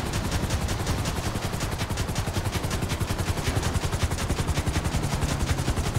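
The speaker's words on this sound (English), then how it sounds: "How do you shoot this minigun?" Minigun fire in the video game GTA V, a dense continuous stream of rapid shots at steady high rate, loud and close for the full stretch with no talk over it.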